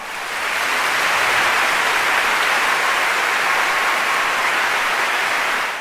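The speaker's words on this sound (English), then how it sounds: "Let's give them a bigger round of applause." Audience applause after a children's stage performance: dense, steady clapping that swells quickly and holds evenly at full loudness, with no voices over it.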